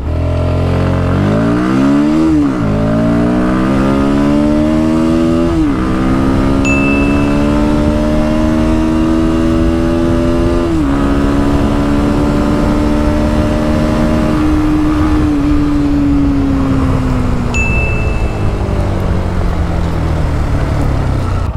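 A Bajaj Pulsar NS160 motorcycle accelerating hard in a drag race, its loud engine climbing in pitch through several gear changes with brief dips between shifts, close and continuous for about twenty seconds.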